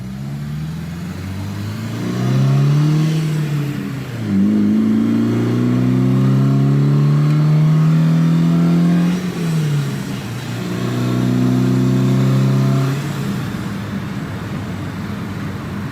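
A Volvo car engine running while driving, the motor revving up in long rising pulls with pauses between gear changes, loud and close with no talking over it.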